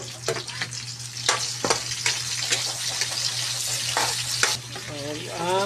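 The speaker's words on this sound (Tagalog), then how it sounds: "Guys, pagisa na ta sa ahos guys." Garlic, onion and chili are sautéed in a pan with a loud, steady sizzle. Sharp clattering stirring strokes recur throughout under a constant low hum, and a voice briefly talks near the end.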